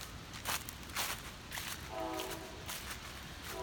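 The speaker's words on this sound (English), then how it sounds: "You can hear the train." A train passes at a distance beside a rural uphill road, its horn faint with a few steady tones that rise briefly over a low rumble and crunching steps close by.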